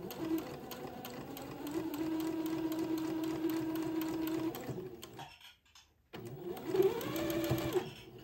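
Sewing machine running a straight seam on a twin daygown: a steady, close mechanical whir for about five seconds, a brief stop, then the stitching resumes at a slightly uneven speed.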